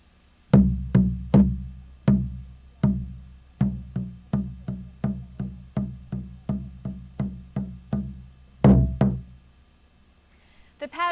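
Hand drumming that combines several I Ching trigram rhythm patterns, a long run of clear resonant strikes in shifting groupings and spacing, some paired quickly and others evenly paced, played alone without voices.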